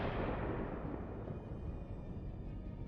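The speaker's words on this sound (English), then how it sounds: "A powerful explosion from the inside leaves only a charred frame of the formidable tank." Ammunition cooks off inside a burning Russian tank struck by a drone, a loud, close blast that swells into a dense, rumbling roar and then slowly fades while staying heavy and continuous for several seconds.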